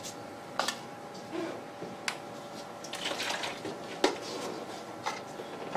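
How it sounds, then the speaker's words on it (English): Water poured into a bucket to mix Feathercrete, heard as a steady splashing, trickling wash with scattered clinks and knocks from the bucket, fairly loud and continuous. "I'm going to put my 2 parts of water in."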